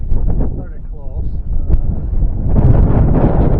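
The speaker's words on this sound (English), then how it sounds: "Very windy obviously because we're at the top of a cliff." Strong gusty wind on a cliff top at Berry Head, Brixham, buffets the microphone with low rumbling roar, while voices talk over it in bursts.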